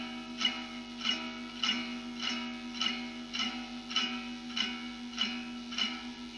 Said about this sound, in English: This is how loud the bridge humbucker is with nylon strings.